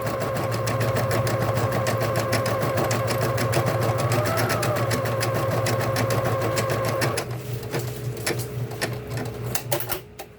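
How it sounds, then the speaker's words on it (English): A Bernina Deco 650 embroidery machine stitching steadily, a fast even mechanical rattle under a low motor hum, close and fairly loud, which slows and turns irregular near the end as it stops. "you can hear it, the machine is quiet, it runs real nice"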